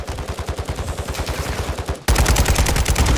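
Rapid automatic gunfire in the Warzone video game: a fast, even burst of shots, then a louder, denser stretch of fire right up close.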